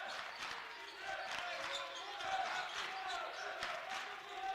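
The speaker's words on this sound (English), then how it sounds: "Crowd getting into the defense." Crowd noise at a men's college basketball game, Alaska versus Northwest Nazarene, with fans roaring behind the defense under repeated sharp ball bounces and sneaker squeaks on the hardwood, swelling midway through.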